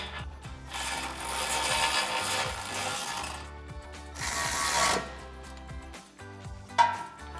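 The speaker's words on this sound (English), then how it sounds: "We're gonna tighten this down with our 16 mil socket." A 16 mm socket ratchet clicks rapidly and continuously in close, steady runs, pausing briefly between strokes, while tightening a bumper guard nut on a 2024-2026 Toyota Tacoma.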